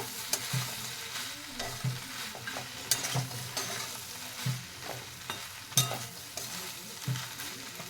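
Lentil dumplings (dal bori) being stirred through a vegetable chachchori in a frying pan, with rhythmic spatula scrapes about once a second over a steady close sizzle, no voices.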